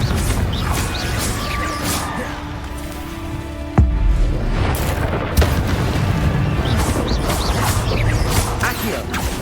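A Confringo blasting spell explodes during combat in the Hogwarts Legacy video game, a single sharp boom mid-clip set among continuous battle noise and smaller impacts.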